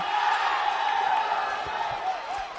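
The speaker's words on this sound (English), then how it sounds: "Crowd's very excited because number 10's on the ball again" Excited crowd noise from spectators at a men's Premier League football match between Darwin Hearts FC and University Azzurri FC, a continuous roar of cheering and shouting at fairly close range, staying loud from start to finish.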